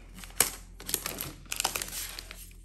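Plastic wrapping crinkles as it is pulled off a new space grey 2021 MacBook Pro 13-inch, with sharp close crackles and rustling bursts separated by a brief pause.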